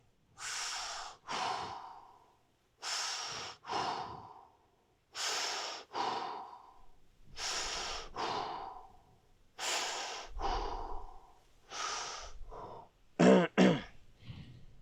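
Slow, deep breathing during a lower-body fascia stretch, about seven long inhale-exhale cycles separated by short pauses, close and clear, ending in a few sharper, snorting breaths, with no talking.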